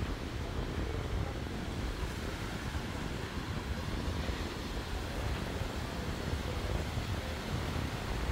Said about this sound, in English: It's a little bit windy right now. You're probably hearing that in the video